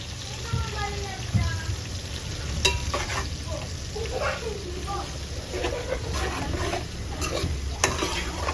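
Turmeric is stirred into hot frying oil in a pan for a gongura oil pickle, giving a continuous close sizzle with scraping stirs throughout and a faint voice in the background.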